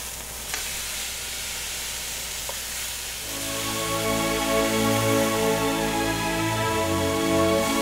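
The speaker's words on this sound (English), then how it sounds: "when I put the steaks on, it sizzles like crazy" ButcherBox steaks hitting a smoking hot pan burst into loud, steady sizzling and crackling frying that continues to the end, close up with no talk.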